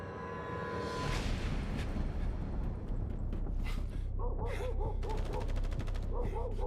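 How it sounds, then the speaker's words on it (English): Gunfire in The First Descendant video game: rapid automatic bursts and sharp shots crackle through a dense battle mix, with pulsing repeated fire toward the end and voices mixed in. "Gunfire."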